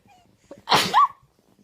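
A baby gives a single short, sharp sneeze, close and clear, preceded by faint breathing in an otherwise quiet room.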